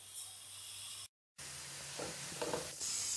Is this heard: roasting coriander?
yes